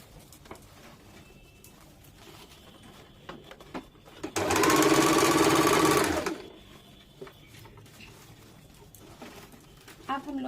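A sewing machine stitches around the edge of a round umbrella baby frock in one loud, steady run of about two seconds, set among quieter handling noises and a soft voice.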